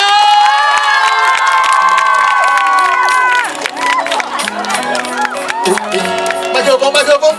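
A crowd at an outdoor seaside music festival in Qijin cheers, screams and claps loudly to welcome the singer. High shrill shouts come first, then a dense roar of cheering and clapping, with voices mixed in.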